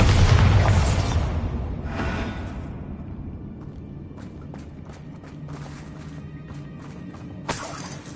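Bombarda spell blast in the Hogwarts video game: a loud, heavy boom with shattering debris at the start, decaying over a couple of seconds into quieter scattered crackles and clatter, with a brief sharp burst near the end.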